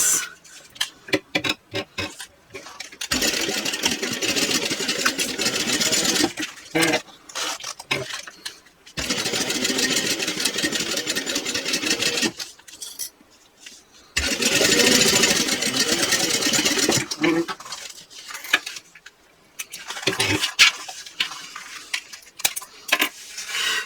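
A sewing machine stitches a quarter-inch seam across a bag lining piece placed right sides together, running in several rapid whirring bursts separated by short pauses and small handling clicks.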